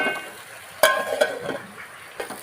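Vaseti greens being stirred in a cooking pan, a few sharp scrapes and knocks of the spoon over a low background sizzle, close and brief.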